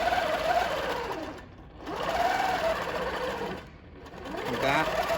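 A sewing machine stitches around a quilting ruler, running in a steady close whir that slows and dips twice before picking back up.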